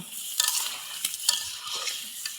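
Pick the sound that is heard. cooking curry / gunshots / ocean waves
cooking curry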